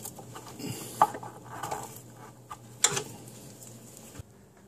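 A screw being driven to mount an under-cabinet LED light fixture, heard as scattered close clicks and ratcheting mechanical ticks over a low steady hum, with no speech.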